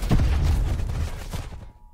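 A grenade goes off in the shooter Call of Duty Black Ops 4, a loud close booming blast with rumbling low end that decays over about a second and a half before fading out.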